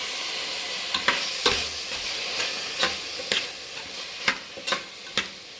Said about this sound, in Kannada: ಇದು ಸ್ವಲ್ಪ ಚೆನ್ನಾಗಿ ಫ್ರೈ ಮಾಡಬೇಕು